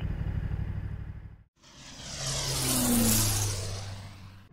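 A Yamaha MT-07 motorcycle on a ride in Aichi, its engine steady and close before a brief cutout, then a broad whooshing drone as it accelerates with wind noise and a rising and falling engine tone.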